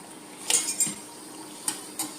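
Fried banana snacks are scooped out of hot oil into a vessel, with a few sharp metal clinks and scrapes of a utensil against the pan over a quiet background.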